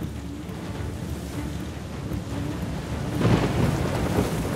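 Thunderstorm in the video game Uncharted 4: heavy rain pours steadily while low thunder rumbles and swells toward the end, with no voices.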